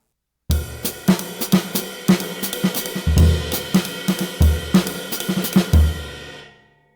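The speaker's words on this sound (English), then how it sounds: "I still might play kind of a more tight sound like that if I'm playing conversationally between my hi-hat and my snare drum" Tight hi-hat trading conversational phrases with a snare drum on a drum kit, short closed chicks interleaved with sharp snare cracks and kick thumps in an uneven groove, close and loud without speech.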